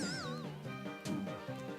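Cat meows from a Deltarune game creature, a few short pitched mews with a wavering tone, heard clearly over light game sounds.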